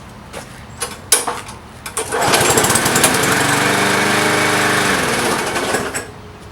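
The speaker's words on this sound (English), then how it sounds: "Your mower runs great. Let me show you." A lawn mower engine, fixed after ethanol fuel trouble, sputters and catches a few times, then runs loud and steady up close for about three seconds before dying away.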